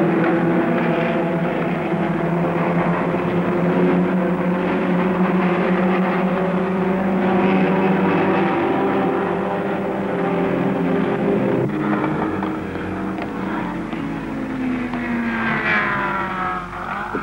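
Formula Junior racing cars lapping a 1960 circuit, led by Clark's Lotus, make a loud, continuous high-revving engine drone whose pitch holds steady, then shifts as a car passes close partway through.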